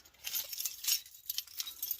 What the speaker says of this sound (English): I get my keys, find the lock button